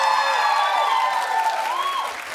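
A short burst of studio audience applause on a daytime talk show during a clap poll, with steady close clapping and a faint voice or cheer rising over it before the sound tapers off.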